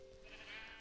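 A single faint, drawn-out sheep bleat from a modded block-building video game, heard alone over soft ambient background.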